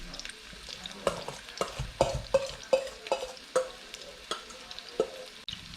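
Crab cakes sear in a hot pan, giving a steady low sizzle punctuated by a series of sharp clinks and scrapes roughly every half second as a utensil works the pan, close and moderately loud with no talking.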